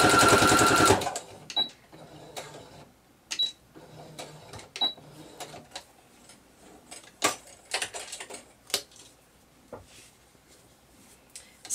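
A sewing machine stitches a single fold hem with a mitered corner, starting with a loud burst of continuous whirring, then falling into faint intermittent taps and short bursts of clicking as the fabric is repositioned.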